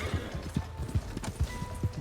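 A horse in Red Dead Redemption 2 clops along with steady, repeated hoofbeats, joined by a neigh and whinny, all moderately loud over a faint ambient background.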